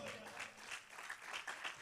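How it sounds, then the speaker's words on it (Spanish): A church congregation applauding during a Spanish-language sermon, a short burst of crowd clapping with cheering voices mixed in, fairly full and close. "¿Cuánto dan un aplauso al Señor por eso?"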